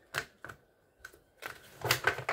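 Dice rolled and clattering across a surface during a tarot-style reading, several short sharp rattles and taps in quick bursts, close and fairly loud with no talking.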